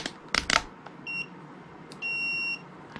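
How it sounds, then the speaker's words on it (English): Multimeter continuity tester gives a short high beep, then a longer sustained beep, after a few handling clicks and rustles, close and with no talk. "I'll switch that over to the continuity tester"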